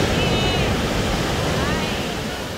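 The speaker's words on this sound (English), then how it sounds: "Waves is doing something extra right now out here." Ocean waves wash continuously onto a beach in a steady, loud broadband rush. Wind buffets the microphone throughout.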